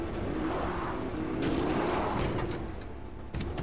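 Distant gunfire in the video game Fortnite: a few muffled, booming shots over a constant rumbling background, with no voices.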